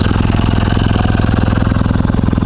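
A Kawasaki W800 motorcycle engine runs at a steady, even idle, loud and close, with a regular pulsing beat and no voices.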